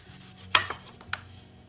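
A knife slices through a firm green tomato, with one sharp cut followed by a smaller crunch and a second quick slice, close and clear with no talking.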